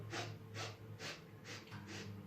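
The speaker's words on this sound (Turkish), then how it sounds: "Şimdi 5 tane nefes alacağım." Five deep breaths taken during a home strengthening workout, each a soft, airy rush repeating at a steady half-second rhythm, close and fairly quiet.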